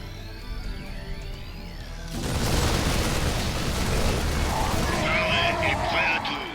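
StarCraft II combat: photon cannons unleash a sudden roaring burst of explosions and crackling blasts that continues, with whining synthetic tones layered over the din.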